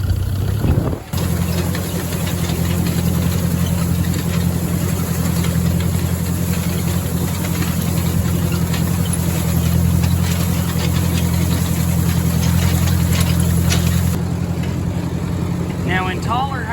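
A Ford 601 tractor engine runs loud and steady with a low, throbbing idle and mechanical rattling, continuing unbroken throughout, driving a hay tedder.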